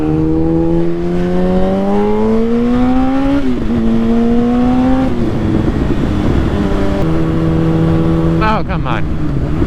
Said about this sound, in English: I'm just fucking riding a motorcycle